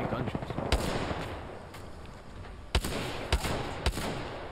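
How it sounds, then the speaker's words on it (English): Gunfire in the battle game Apex Legends: a few sharp, separate shots spaced a second or so apart, with faint rapid bursts between them, heard under ongoing talk from the players. "I can hear gunshots."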